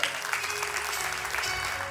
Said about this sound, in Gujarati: તો દીકરીના વાલી જેટલા પણ લોકો છે બધા માટે એક વખત દિલથી તાળીઓ થઈ જાય ખરેખર.